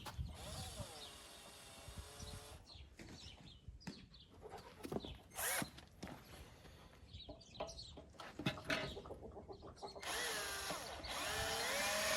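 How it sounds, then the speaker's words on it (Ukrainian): Power drill boring a hole for a new step on an old MTZ 80 tractor, heard in close bursts that start and stop, with a longer sustained run at the end. "я спочатку просверлю одну дирочку"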